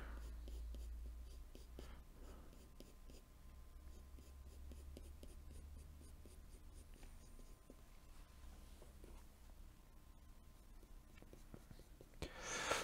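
Pencil strokes drawing hair flicks on paper for a realistic portrait sketch of straight hair and plaits, a steady run of soft, close scratchy strokes with a low hum underneath.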